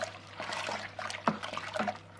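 Malt extract stirred into hot water in a home-brew fermenter, with a steady liquid swishing and sloshing, occasional louder splashes and clunks as the spoon scrapes the bottom, close by and without talk.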